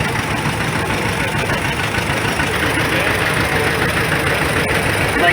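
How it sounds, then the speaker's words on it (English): A 1944 John Deere Model B tractor, rated at 18 horsepower, running in an old engine show parade, its engine chugging steadily and continuously at close range amid broad outdoor noise. "1944 John Deere Model B, 18 horsepower."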